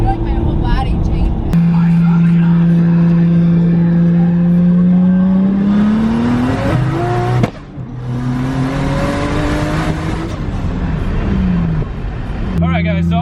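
A Nissan Skyline engine revs loudly up through its range, dips briefly as if shifting, then climbs again in a second sustained rising pull before dropping off abruptly.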